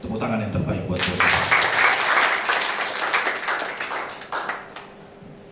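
Church congregation applauding after a sermon passage, a burst of clapping from many hands rising after the first second and fading toward the end, with a preacher's voice audible at the start.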